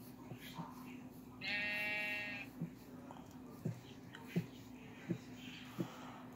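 A single drawn-out sheep bleat in the video game Survive the Unknown sounds briefly over a quiet background with scattered soft clicks and thumps.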